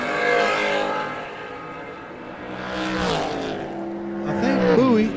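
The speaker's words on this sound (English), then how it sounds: "Rawson on a 536. In the Camaro." A Chevrolet Camaro drag racing car at a Great American Stars and Stripes New Year's Spectacular event, its engine droning and rising at a distance beneath an announcer's steady commentary over the track.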